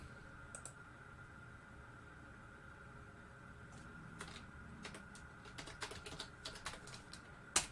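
Keys clack on a computer keyboard in soft, irregular bursts over a steady background hum, growing busier toward the end with a sharper final tap.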